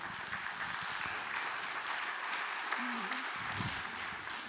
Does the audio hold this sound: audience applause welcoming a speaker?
yes